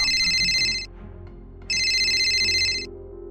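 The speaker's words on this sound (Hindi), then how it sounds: "तभी उसका फोन बजने लगा" Mobile phone ringtone, two loud bursts of a bright electronic tone with a short gap between them, alone over a faint background hum.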